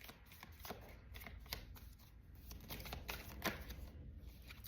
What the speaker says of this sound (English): I'm going to shuffle the deck and see if one card wants to come out.